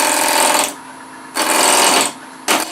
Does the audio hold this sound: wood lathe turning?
yes